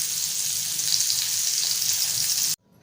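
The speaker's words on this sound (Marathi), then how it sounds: "तेल गरम झालं की आपण मांदेली सोडूया। या प्रकारे सर्व मांदेली आपण फ्राय करून घेऊया।" Malvani-style mandeli fish frying in hot oil give a loud, steady, close sizzle that cuts off abruptly just before the end.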